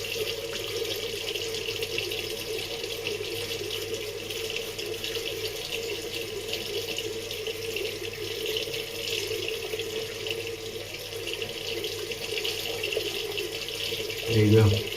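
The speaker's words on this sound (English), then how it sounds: "then we'll rinse it off and dry it" Tap water runs steadily from a faucet into a sink while skin is rinsed during a cleansing routine, a continuous hiss through the whole stretch with a slight surge near the end.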